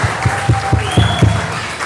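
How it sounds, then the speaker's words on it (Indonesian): Rhythmic unison clapping from an audience at a church anniversary service, about five or six evenly spaced loud claps close by with a faint background tone. "Tepuk tangan untuk kita semua."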